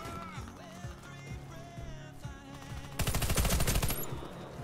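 Gunfire in the Warface first-person shooter game, a rapid burst of automatic shots about three seconds in over busy game sounds and scattered effects.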